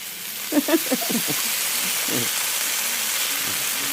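June beetles fry in oil until crispy, a steady bright sizzle throughout with a few voices speaking briefly over it near the start.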